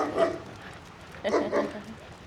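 Two short bursts of small puppies yipping and barking, close by at a campground site, with quiet moments between them.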